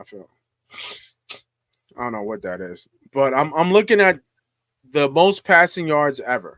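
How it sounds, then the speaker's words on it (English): A man gives one quick, sharp sneeze before going back to talking about football, and his speech fills the rest of the clip. "Hold on, I gotta sneeze real quick."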